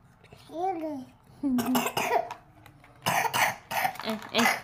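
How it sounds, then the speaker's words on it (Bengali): A child coughs in several short, sharp bursts, close by, between bits of a young voice speaking. "কাশি কাশি"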